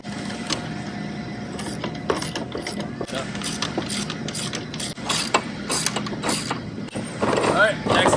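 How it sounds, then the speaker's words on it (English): A half-inch ratchet tightening nuts onto bolts while a Tilther Pro tiller is assembled, giving steady clicking pawl bursts with brief pauses and metallic knocks, close and fairly loud, with a little talk in the background. "It can be a ratchet, it can be a wrench. You just need two of them that are 1/2 inch. Put a nut on each bolt."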